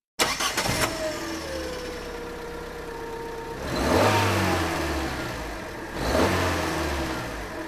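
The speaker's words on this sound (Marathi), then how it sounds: "चला कारच्या इंजिनचा आवाज ऐकूया." A car engine cranks and catches with a quick burst, settles into a steady idle, then revs up twice in loud rising-and-falling swells, heard close with no voices.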